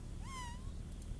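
A cat meows once inside the Old School RuneScape video game, a clear rising and falling in-game cry that lasts under a second over a steady low background hum.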